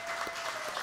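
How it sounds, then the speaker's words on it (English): Applause from a church congregation during a live-streamed service as young winners are brought up front, a short steady burst of clapping with a faint tone running underneath. "You can give them a round of applause."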